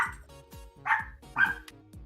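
Dogs bark in a few sharp, separate yips and barks at moderate distance indoors, spaced irregularly across a couple of seconds with quiet gaps between.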